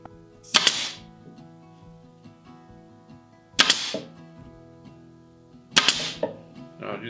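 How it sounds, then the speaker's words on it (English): Staple gun firing into woven seat material on a chair, three sharp loud snaps spaced about three seconds apart with quiet handling between them. "then I can tip and come in here with my staple gun."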